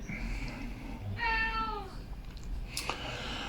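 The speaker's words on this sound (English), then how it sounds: "There's a cat." A single cat meows once, a drawn-out mid-pitched call heard clearly over a low rumbling background, with a brief sharp noise following.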